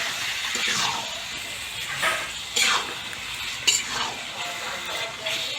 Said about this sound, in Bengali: মাংসটার প্রতিটি মাংসের গায়ে যাতে মশলাটা ভালোভাবে এখানে লাগে, আর সেজন্য ভালোভাবে নেড়ে নেওয়া হচ্ছে